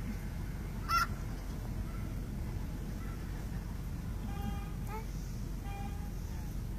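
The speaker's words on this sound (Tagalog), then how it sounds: "Bird, Sophia." Goose honks sound a few times, faint and distant, over steady outdoor rumble and wind noise, with a voice heard briefly.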